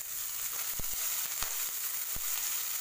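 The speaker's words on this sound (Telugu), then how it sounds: "ఉల్లిపాయలు, పచ్చిమిరపకాయలని కొంచెంసేపు వేపుకోవాలి" Onions and green chillies frying in hot oil for a radish-leaf fry give a steady, close sizzling hiss throughout, broken by a few sharp clicks and pops.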